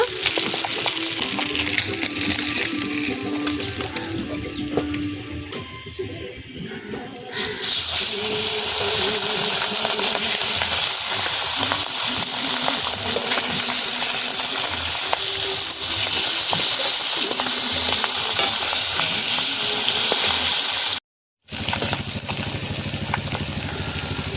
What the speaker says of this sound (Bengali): নদীর মাছ বেশি ভাজবো না,